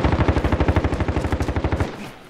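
Fast automatic gunfire in Call of Duty, a loud, close, evenly pulsing burst of about twenty rounds that cuts off abruptly, then a short fading tail.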